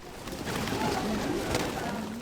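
Pigeons on a street in Paris give soft, low, repeated coos over a hushed outdoor background, several calls overlapping at close range.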